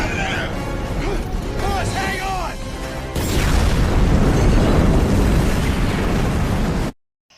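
A huge explosion from a rocket launcher tears through a harbour in a film scene, a roaring, rumbling blast with crashing debris that follows a stretch of tonal sound and then cuts off abruptly.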